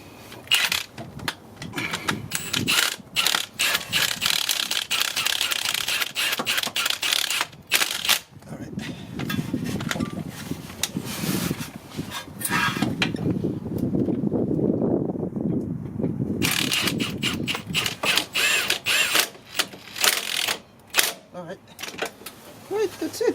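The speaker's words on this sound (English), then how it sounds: "So let's tighten the 14 mm bolt." A ratchet clicks in rapid bursts while tightening a 14 mm bolt on a 2011 Honda Odyssey passenger-side CV axle, sharp repeated ticks close to the microphone, pausing between strokes, with wind noise and occasional talk.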